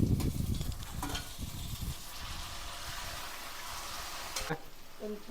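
Tomatoes tumbling into a hot frying pan already holding cumin, garlic and onions for Nellore fish curry, with a steady close sizzle and scraping stirs throughout; a few louder clatters of the spoon.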